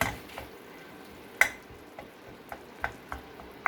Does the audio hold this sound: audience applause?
no